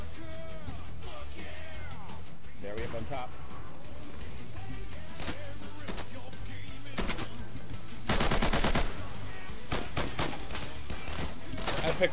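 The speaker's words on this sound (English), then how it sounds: "I shot him like five fucking times with AP ammo" Rapid bursts of automatic gunfire from AP (armour-piercing) ammunition in the video game Insurgency, with a dense volley of repeated shots near 8 seconds over steady game ambience and music.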